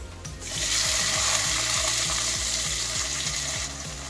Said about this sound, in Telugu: ఈ ఉల్లిపాయలు వేగినాయి కదండి. ఇప్పుడు మనము టొమాటోస్ వేసుకుందాం.